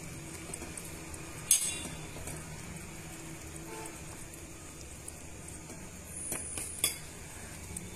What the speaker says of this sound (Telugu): ఇవన్నీ కూడా బాగా మిక్స్ చేసుకొని ఒక 10 నుంచి 15 నిమిషాలు ఉడికించుకోవాలి